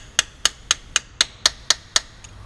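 Clutch part for a 2G Eclipse GSX being hammered into aluminum: nine sharp, evenly spaced metallic strikes, close and loud, with a brief ring after each one.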